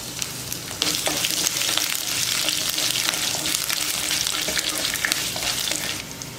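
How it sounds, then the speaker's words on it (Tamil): Garlic and dried red chillies frying in hot oil with lentils already roasted, a steady loud sizzle with occasional stirring scrapes, no voices. "பூண்டு வரமிளகா போட்டுக்கிறேன்."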